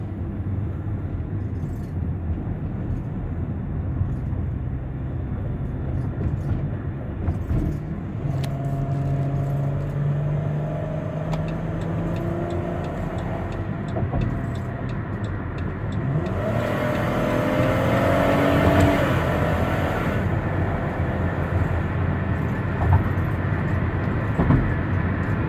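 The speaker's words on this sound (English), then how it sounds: "What we're trying to do here is let you hear the engine run, the transmission shift." A 2017 Dodge Caravan SXT wheelchair mobility van cruises on a highway, its engine droning steadily with rising and falling tones as it shifts, plus a swell of road and wind noise midway; no talking.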